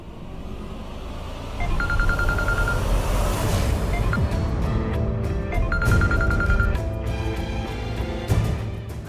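A phone rings twice in short trilling bursts, separated by a few seconds, over a low background rumble.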